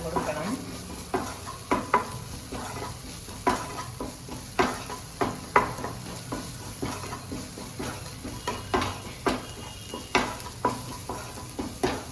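Mushroom masala cooking in a pan sizzles steadily while a spoon stirs it in a continuous run of scrapes and knocks against the metal, loud and close throughout.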